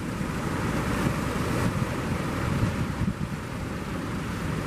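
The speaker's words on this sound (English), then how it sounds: "The waves is not that high, but we saw with ocean commotion now it can really swamp a boat" Ocean waves surge at the St Lucia estuary during rough boating conditions, a steady loud wash of surf with heavy wind noise buffeting the microphone throughout, no voices.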